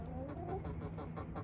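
Chickens cluck softly inside a coop with a run, a steady low mix of murmuring hen calls lasting a moment with no talk.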